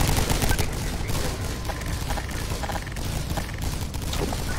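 Dense, continuous gunfire from a Garry's Mod brick-house base invasion, with overlapping rapid bursts that sound like machine guns and volleys fired at once. The shots stay loud and near for the whole stretch, and no talk rises above them.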